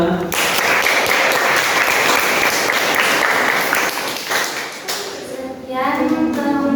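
Children in a classroom clap after a group presentation, a dense burst of close applause lasting several seconds before tapering, followed by someone speaking.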